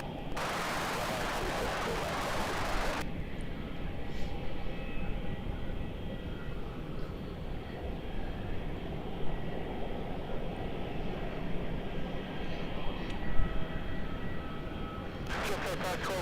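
A plane landing on runway 27 at Melbourne Airport, a steady broadband engine roar heard from a distance that holds evenly throughout, with a loud burst of noise at the start and end.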